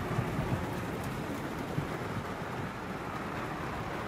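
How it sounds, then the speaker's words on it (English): Steady rain patters on a travel trailer roof overhead, heard from inside, a dense, even hiss of drops with occasional louder taps, continuous and close. "So this is what it sounds like when it's raining in the trailer."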